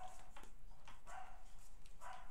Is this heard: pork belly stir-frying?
no